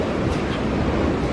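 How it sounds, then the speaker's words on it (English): Loud, blustery wind on a cruise ship's deck at sea roars across the microphone in a continuous rush, with a faint wash of sea behind it. "It's very windy out here."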